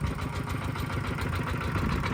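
A used Kubota diesel engine idles steadily with a low, chugging rumble, close and even throughout, no voices.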